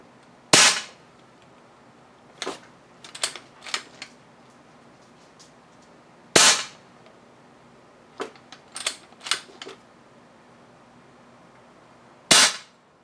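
Sharp air rifle shots from an Edgun R3 being power-tested on a regulator tuned to about 135 bar: seven or so crisp cracks with uneven spacing, some grouped in quick pairs and triplets, each followed by a brief hiss of decay against a quiet background.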